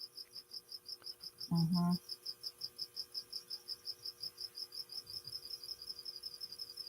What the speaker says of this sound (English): I'm pretty sure she has more than one cricket in her little area there.